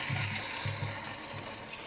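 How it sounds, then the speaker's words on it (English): Water gushes steadily into a sprayer tank being filled about halfway, mixed for a fungicide treatment against dollar spot, with a low churning rush and a faint pump-like hum pulsing through the short stretch. "So the first thing we want to do is mix our tank about halfway full of water."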